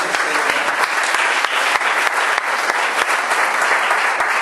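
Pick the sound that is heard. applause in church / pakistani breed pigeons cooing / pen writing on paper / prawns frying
applause in church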